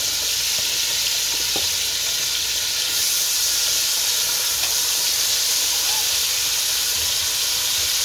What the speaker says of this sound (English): let's fry our pepper and onion